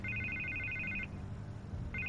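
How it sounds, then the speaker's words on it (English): A telephone rings in the Batman Telltale Series video game with a steady, fairly quiet electronic trill. It stops after about a second and starts again just before the end. "I can't get the phone to stop ringing."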